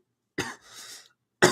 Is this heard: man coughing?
yes